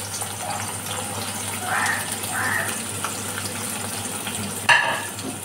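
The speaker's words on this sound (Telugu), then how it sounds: "సో ఇప్పుడు ఆయిల్ కొంచెం వేడయింది కాబట్టి ఇందులో మనం ఆనియన్స్ యాడ్ చేసుకుందామండి." Onions tipped into hot oil in a pan, a steady low sizzle with brief clattering and stirring scrapes, close, and a sharp clink near the end.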